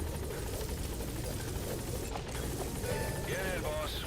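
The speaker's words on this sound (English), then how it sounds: "Support helicopter has arrived." A support helicopter arriving in a Metal Gear video game, a faint, steady mechanical rotor chop and whir held under a constant noisy bed, with brief chirping electronic tones near the end.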